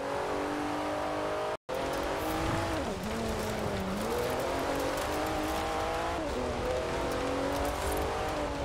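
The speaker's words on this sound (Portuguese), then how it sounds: "Olha o som desse carro!" A car engine in the Forza Horizon 4 racing game drones steadily at close range for most of the clip, its pitch dipping and climbing as the car shifts and accelerates, after a brief cut to silence near the start.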